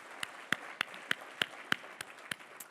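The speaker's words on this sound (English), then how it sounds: "Can I get a round of applause?" A sparse round of applause for sponsors at a business presentation on tenant survey results, heard as faint, evenly spaced single claps about three per second rather than a full crowd.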